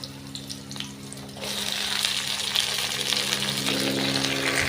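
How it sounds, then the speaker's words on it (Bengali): Onion and garlic fry lightly in a generous amount of oil, a soft sizzle that starts faint and then grows into a steadier, brighter crackle with light stirring. "তো আমি পেঁয়াজ রসুন এটা আমি হালকা একটু ভাজা দিয়ে নেব, আর একটু তেল বেশি করে দিছি।"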